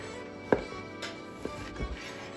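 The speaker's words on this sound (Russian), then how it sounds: "Тоненько нарезаем." A few sharp knife cuts tap against a board at an uneven pace, thinly slicing pork belly, close by and fairly quiet, with soft handling noise in between.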